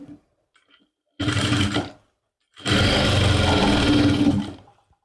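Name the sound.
sewing machine stitching a lining suit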